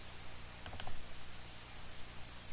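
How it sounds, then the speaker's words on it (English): A computer mouse clicks twice in quick succession to open the Tekkit launcher, two faint sharp clicks close together early on over a quiet, hissy background. "Just double click that."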